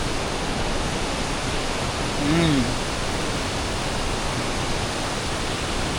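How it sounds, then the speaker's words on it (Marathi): The Ukshi Ranpat waterfall in monsoon rain gives off a loud, steady, unbroken roar of rushing water, with a faint voice briefly audible under it. "समोर सुंदर असा उक्षी रानपाट धबधबा"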